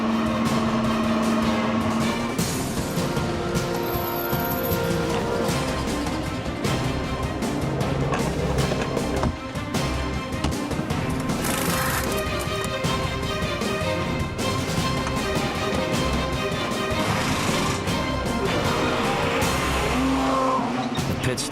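Audi race car coming into the pit lane at a 24-hour endurance race, engine noise with whining tones and sharp tire squeals amid busy track ambience, loud and continuous with voices in the mix.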